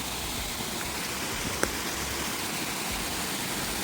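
Steady broadband rush of a waterfall hidden among forest trees near a closed trail, constant and moderately loud with one brief click partway through, no voices.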